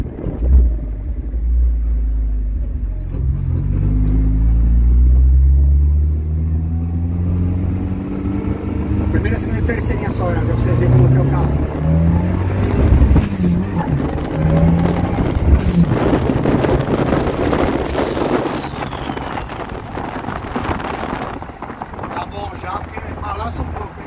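A 305 hp dune buggy with an intercooler and side air intakes is driven at a steady cruise, its engine rumbling low under heavy wind noise while someone talks over it.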